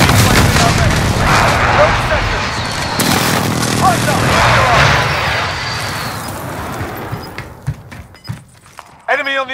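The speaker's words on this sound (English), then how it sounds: "Enemy precision airstrike." Video game battle sounds with a precision airstrike and gunfire, dense bursts of shots and blasts rolling continuously over several seconds, loud and close. A game announcer voice speaks over the fighting.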